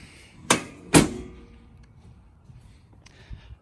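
A half door on a Polaris Ranger 1000 XP Crew, fitted with a door guide, is swung shut: two sharp, loud knocks about half a second apart, then quiet with a few faint taps.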